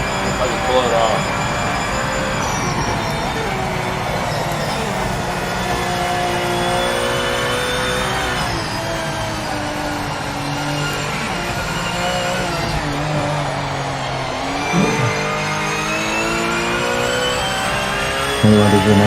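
Loud, continuous race car engine from a racing video game holds a steady high drone through a lap, its pitch rising and dipping with gear shifts and corners, with a sharp change near the end.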